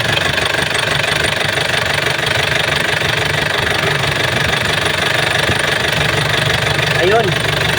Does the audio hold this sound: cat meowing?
no